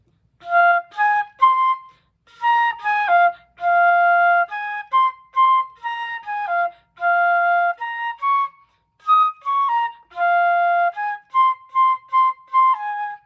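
Solo flute plays a jazzy phrase, with short detached notes and syncopated held tones in a lively, bouncing rhythm, heard close and clear with brief pauses between phrases.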